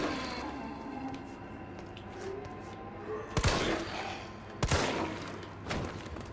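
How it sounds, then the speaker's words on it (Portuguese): Zombie-fighting gunfire in the Resident Evil 3 Remake demo: two sharp, loud shots about a second apart, then a softer third, over a low murmuring game ambience. "Nossa, já errei um tiro"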